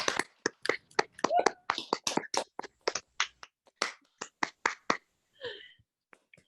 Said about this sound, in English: so that we can do a round of applause and everybody can actually get a little auditory feedback